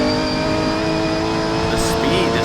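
A Porsche rally car engine revs at high pitch with a smooth, sustained tone, heard from onboard under steady road and mechanical noise.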